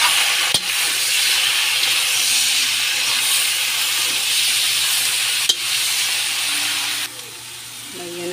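Kangkong leaves are stirred into a pan with squash and tofu, giving a constant loud sizzle with a couple of sharp utensil knocks, and a voice speaks briefly near the end.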